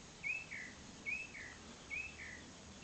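A bird repeats a short, bright chirp three times at even intervals, clear but moderately distant, over faint outdoor background noise, near a Brazilian Rain Tree being styled as pre-bonsai.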